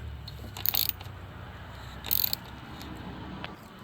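A ratchet wrench works a lower 8mm bolt on the radiator of a Dodge Dart with the 2.4L engine, giving faint, close mechanical clicking in two short bursts over a quiet background.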